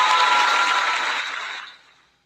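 A canned applause effect fired from a livestream cheer button: a dense burst of clapping at full strength that holds for about a second, then thins and fades to silence within two seconds, with no voices over it.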